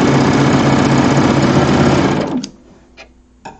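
An overlock serger runs a test stitch across quilting fabric, a loud fast steady mechanical whirr lasting about two and a half seconds before stopping abruptly, followed by a few faint clicks.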